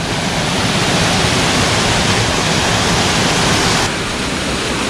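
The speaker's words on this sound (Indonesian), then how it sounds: "Air terjun kedua, Tok Songo." A waterfall on the slopes of Mount Merbabu, Boyolali, roars loudly and continuously, a dense, steady rush of falling water with no other sounds.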